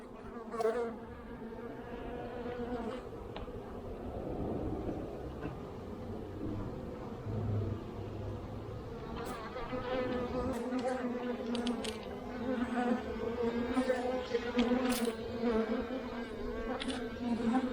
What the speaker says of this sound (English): Man, I thought I was through most of the bees.